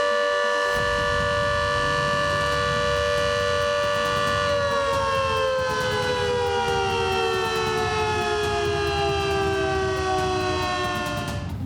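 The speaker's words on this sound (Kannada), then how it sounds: "ಸೈರನ್ ಮೊಳಗಲಿದೆ" A civil defence mock drill siren wails loudly and continuously in Bengaluru, a steady tone that slowly slides lower in pitch, with no voices over it.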